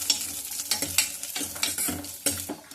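Ingredients for semiya payasam frying in a pan, with a close hissing sizzle and repeated spoon scrapes and stirring strokes in an uneven rhythm, moderately loud and with no voices.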